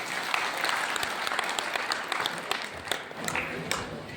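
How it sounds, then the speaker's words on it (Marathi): Applause from an audience at a sannyas diksha ceremony in Ranjangaon Deshmukh, a steady burst of many hands clapping together for a few seconds at moderate distance. "त्या माऊल्यांसाठी एकदा जोरदार टाळी वाजवा."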